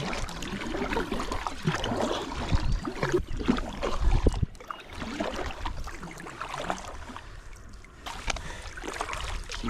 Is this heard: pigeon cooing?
no